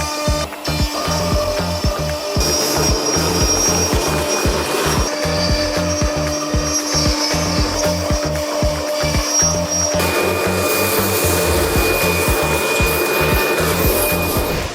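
A CNC router spinning a 3/16 bit through 0.6 inch thick material, a continuous loud whine with a rhythmic pulsing hum underneath as the cut progresses, steady throughout with no voices.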